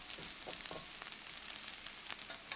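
A cabbage tuna pancake bound with egg fries over low heat in a pan, giving a steady, fairly quiet hiss of sizzling oil with faint crackles throughout.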